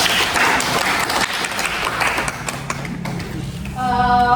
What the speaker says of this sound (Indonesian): Berikan tepuk tangan untuk temannya dulu.